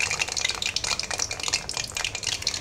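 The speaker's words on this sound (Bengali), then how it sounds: "এখন আমি এগুলো ভেজে নেব আস্তে করে" Traditional Netrokona pillow dessert pieces deep-frying slowly in lightly heated oil, a dense, even crackle and bubbling close by, with faint stirring in the pot and no voices.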